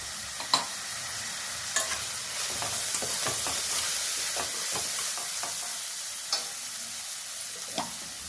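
Okra sizzles steadily in a pan with turmeric over low heat, a continuous hiss broken by a few sharp clacks of a spoon stirring, close and alone with no talk.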